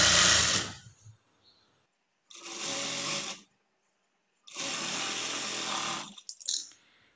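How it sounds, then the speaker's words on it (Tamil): A sewing machine runs long stitches through a blouse lining in three close bursts of rapid whirring, each lasting about a second or so, separated by quiet pauses. "மடிச்சுட்டு நான் சென்டரில் வந்து லாங் ஸ்டிச் வந்து வச்சுக்கிறேன்."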